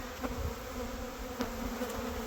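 Honey bees buzz around a hive frame being readied for brood in spring, a steady, close, droning hum with no voices, faint clicks and bumps now and then.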